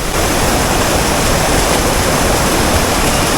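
Loud, steady rush of river water flowing near Lata Perahu waterfall, a dense continuous roar filling the whole stretch with no voices.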